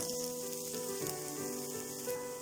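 Garlic and green chili sauté in a pan for paneer butter masala, giving a soft, steady sizzle that holds evenly throughout, with faint scattered crackles and no talking.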